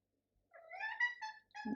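A cat meows in a kitchen, giving two or three close, clear cries in quick succession, with a louder burst starting at the end.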